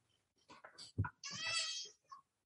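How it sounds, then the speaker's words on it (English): A house cat meows, a couple of short vocal cries with a longer drawn-out one, heard close among quiet indoor sounds; faint talk is also present. "Oh, shut up, cat."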